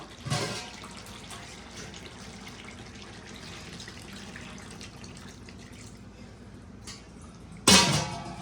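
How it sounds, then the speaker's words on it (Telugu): Water pours steadily into a pot of cooking chicken curry with a soft, continuous splashing rush, ending with a sharp metallic clank. "ఇప్పుడైతే ఇందులో వాటర్ పోసేస్తున్నాం మనం"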